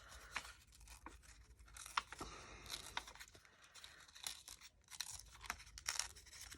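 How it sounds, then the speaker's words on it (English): Paper envelope being torn by hand for a vintage postcard pocket, close and quiet, with a series of short ripping and crinkling bursts separated by brief pauses. "I think I have to do a little tearing action"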